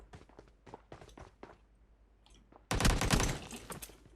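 Gunfire bursts in PUBG Mobile on the Livik map: quiet footstep-like taps first, then a loud, dense volley of shots breaking in near the end and holding for over a second.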